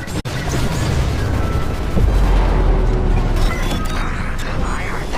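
A reactor core explodes after bombs are dropped in the Star Wars: Squadrons space combat game, a sustained loud roaring rumble with a sharp crack near the start and a heavier boom surge midway, mixed with game noise.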